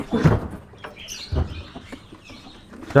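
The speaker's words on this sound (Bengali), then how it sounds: "এখানে কবুতরগুলো ছেড়ে দেই" Pigeons being released chirp and call in short bursts, with a couple of low thumps and faint fluttering nearby.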